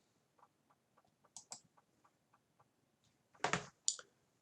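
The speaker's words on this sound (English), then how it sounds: "so I will type them in" Keys tapped on a computer keyboard, faint, sparse clicks spaced out at first, then a few louder, sharper keystrokes near the end, in an otherwise quiet room with no talking.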